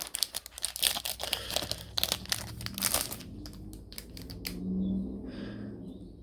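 A pack of 1963 vintage trading cards is torn open and crinkled by hand, with a burst of dense crackling paper and wrapper noise for a few seconds, then quieter rustling and handling close up.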